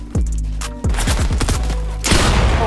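Gunfire in the video game Fortnite, loud rapid bursts of shots with sharp repeated cracks, continuing as a dense fusillade with no speech.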